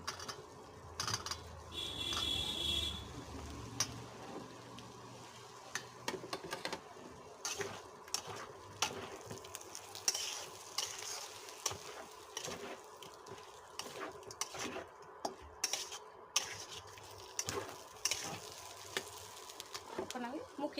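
Boiled potatoes and taro corms drop one by one into spiced masala frying in a pan for a rohu fish curry, followed by steady sizzling and scraping stirs with scattered clinks, moderately close with no talk.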